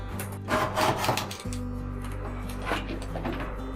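Scissors cut through fabric to trim an inch off a water bottle pouch, a close, steady rasping slice that runs continuously with a brief pause partway through.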